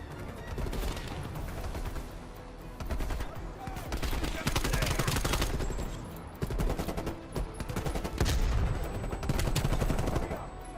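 AK-74U gunfire in Call of Duty Black Ops, dense bursts of automatic shots that keep going with brief gaps, loud and close, with speech at times over the firing.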